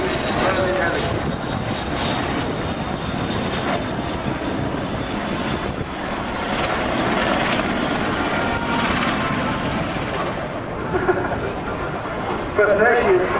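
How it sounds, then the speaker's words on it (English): A Royal Navy Merlin helicopter flies at a seaside airshow, its steady engine and rotor roar filling the air throughout while a commentator talks over a public address and crowd noise. "So there they are, Royal Navy, Merlin helicopter."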